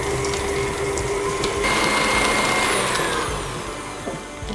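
Steady whirring drone of an electric mixer beating eggs and vanilla extract in a bowl for chocolate chip cookie dough, running continuously and slightly rising in intensity midway.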